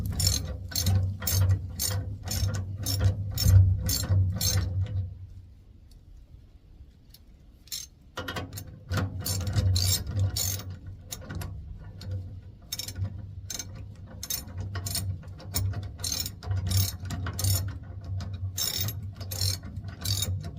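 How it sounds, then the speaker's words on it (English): A hand ratchet turns a 3/4-inch drive deep impact socket with rapid, rhythmic clicking, pausing for a few seconds, then resuming with steady ratcheting close up. "I just have a ratchet right now, but I'm gonna go ahead and utilize these"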